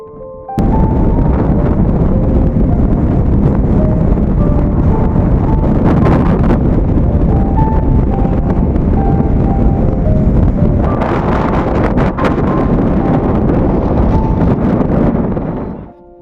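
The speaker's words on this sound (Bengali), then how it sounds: "যা হাওয়া দিচ্ছে ছাতা ভেঙে দু টুকরো হবেই" Strong, gusty wind blows on the cold Atlantic shore in light drizzle, roaring loudly and continuously against the microphone for about sixteen seconds before it cuts off.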